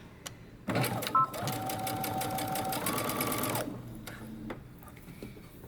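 Sewing machine stitching around a dress sleeve, a loud close motor whir with rapid needle ticking that runs for about three seconds, then stops, with quiet handling noises afterward.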